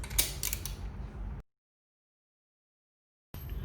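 Creaking, ratcheting mechanical sound of a front sprocket being tightened on a Royal Enfield Himalayan motorcycle, close and loud for about a second and a half, then cutting to silence before resuming briefly.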